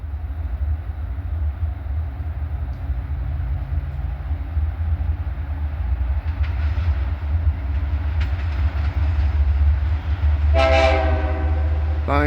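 A piggyback freight train rumbles past close by with steady rolling noise, then its horn blasts loudly near the end.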